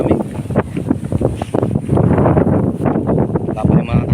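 Gusty, cold wind buffeting the microphone in uneven bursts outdoors at a corn planting field, with a voice talking faintly underneath.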